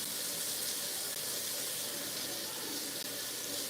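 Steady tap water runs from a faucet into a kitchen sink while a knife blade is rinsed during stir-fry prep, a constant broadband hiss from close by with no voices.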